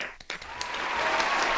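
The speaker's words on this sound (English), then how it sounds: "Let's get us some applause." A crowd bursts into applause, the clapping swelling quickly into a dense, continuous roar that holds steady.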